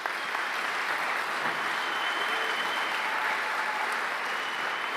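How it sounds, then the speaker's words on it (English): An audience at a university graduate commencement ceremony applauds continuously, a dense, even wash of many hands clapping at steady loudness throughout, with no voices standing out. "Give them all a round of applause."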